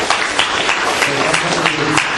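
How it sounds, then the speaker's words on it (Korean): An audience at a real estate finance and REITs seminar applauds steadily, a dense, fairly loud wash of clapping with no pauses. "다시 한번 박수 부탁드리겠습니다."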